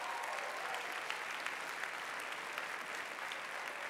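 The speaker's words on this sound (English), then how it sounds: "give a warm round of applause for all of our candidates" Steady applause from an audience for student election candidates at a college chapel gathering, a dense continuous clapping that holds at an even level for a few seconds with no voices over it.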